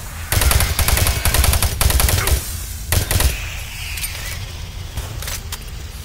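The player's gun in Doom 3 fires rapid automatic bursts, close and loud, in several long strings with short gaps, then a couple of final shots trailing into quieter game ambience.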